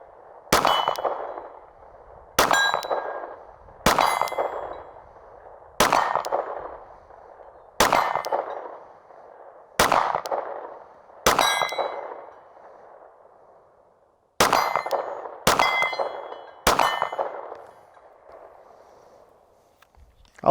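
Ten sharp shots from a Glock 47 MOS pistol crack out one at a time at uneven intervals, each followed by a short ringing decay, with a longer pause before the final three come in quicker succession.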